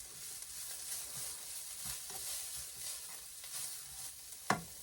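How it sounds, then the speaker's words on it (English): Browned ground beef is stirred in a hot pan, a soft steady sizzle running throughout with faint scraping strokes and one sharp clack of the utensil near the end, fairly quiet and close. "give your already browned ground beef just a wee bit of a stir"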